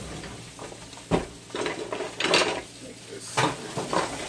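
Baked chicken pieces are flipped on a grill set in a pan, giving a few sharp clanks and scrapes of metal and utensils, close and moderately loud, with a brief stretch of talk.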